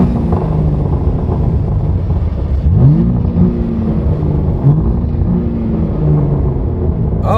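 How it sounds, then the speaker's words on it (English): A BMW G80 M3 fitted with an AWE Switchpath exhaust and high-flow catted downpipes idles with a deep, loud rumble, then is blipped twice in quick succession, each rev rising sharply and falling back to idle, recorded close by. "This exhaust is loud. Loud setup. Give you an idea. I'm gonna rev it."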